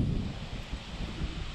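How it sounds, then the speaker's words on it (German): Steady low wind buffeting and rushing beside the Danube river, a continuous gusty rumble with no voices. "Jetzt kommt wieder der Wind, man hört es."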